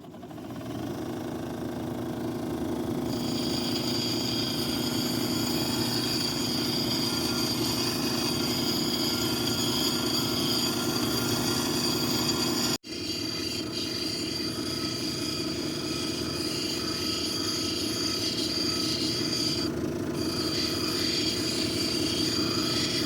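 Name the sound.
Kingsley North cabbing machine shaping a Petoskey stone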